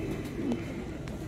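Sialkoti pigeons give soft, low cooing close by, a faint murmur over quiet background noise.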